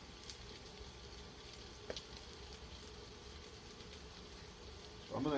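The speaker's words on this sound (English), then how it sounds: "we're going to put our turkey into our frying pan." A faint, steady sizzle and crackle of ground turkey frying in a pan, continuous and low, with a brief louder rustle at the very end.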